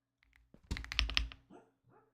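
A sleeping dog gives a few soft, muffled woofs and whimpers while dreaming, quiet and close, with faint keyboard clicks nearby.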